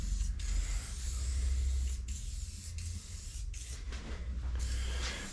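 Lubricant sprayed onto parts of a 1958 Plymouth during restoration comes as a close, steady aerosol hiss in several bursts with brief breaks, over a low mechanical rumble, with no voices.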